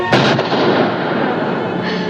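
A single loud gunshot bursts out at a shooting practice, its sharp crack followed by a long, rumbling decay.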